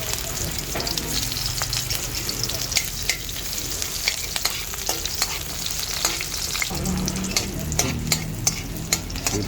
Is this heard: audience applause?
no